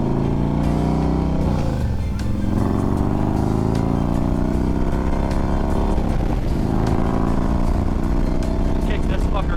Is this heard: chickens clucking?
no